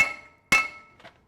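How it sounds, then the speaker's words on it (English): Two sharp metallic hammer strikes on a rusted brake rotor ring out close by, the second the loudest, followed by a faint third knock. "let's just hit it with a hammer"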